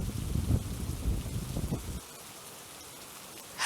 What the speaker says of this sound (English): I feel so cozy to be in the tent with all the rain outside.